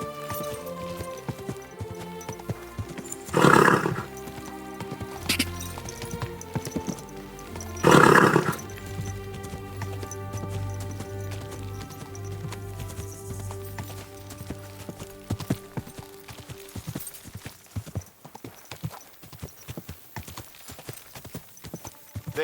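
Steady horse hoofbeats clip-clop throughout in the video game Kingdom Come: Deliverance 2, with two brief loud bursts near the start and a low rumble midway, fading toward the end.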